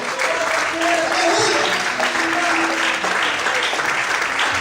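A church congregation applauds during a sermon, a loud, sustained wash of many hands clapping at once, with voices talking and calling out underneath.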